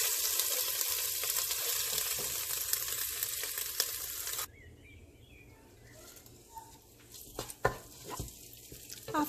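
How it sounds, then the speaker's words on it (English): Onions fry in a pan for a curry, loud and steady at first, then drop to a quieter bubbling sizzle broken by a few scrapes and knocks near the end; no one speaks. "Now add onions and wait for the onions to get translucent."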